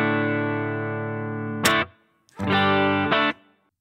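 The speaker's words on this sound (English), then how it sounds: "Now that's the amount of reverb." Sustained electric guitar chord through a Boss ME-90 multi-effects reverb, ringing for over a second, then a second strummed chord that sustains and fades with a lingering tail.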